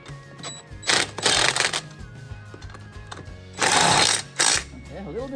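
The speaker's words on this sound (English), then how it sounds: "let's try the impact drill." Impact drill tightening 21mm wheel nuts on a Kubota tractor, fired in loud buzzing bursts of about a second each with pauses between, a little at a time around all five nuts, with some talk mixed in.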